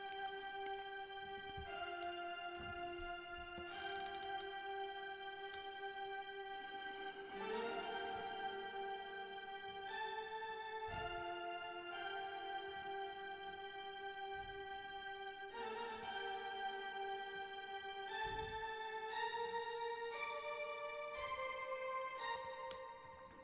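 Main melody from an instrumental remake of a song, played alone as sustained, bright synth-like notes that step through the tune in long held tones, steady and clear from start to finish.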